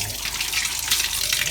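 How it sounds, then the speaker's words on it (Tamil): Steady broadband rush of tap water running through a flexible silicone faucet extension, continuous and fairly close for the whole stretch, with no talk over it. "இப்படி தண்ணி வரும்."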